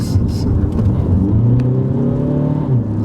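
A 2017 Audi A3, not in sport mode, accelerates from inside the cabin; its engine note climbs steadily in pitch as it builds speed, with a loud, smooth drone under road noise.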